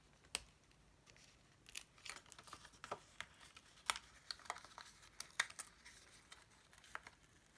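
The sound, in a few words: scissors cutting out a paper kangaroo for a card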